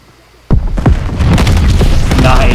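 A grenade goes off in the video game Call of Duty Vanguard: after a quiet moment a sudden loud blast hits, followed by a booming rumble and debris-like crackle that stays loud to the end.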